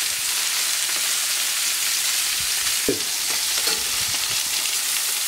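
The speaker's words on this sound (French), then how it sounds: "on voit que nos magrets cuisent tout doucement" Duck breasts (magrets) cook gently in a pan beside nectarines, a dense, even sizzle and crackle filling the space close up, with a few faint utensil touches and no voices.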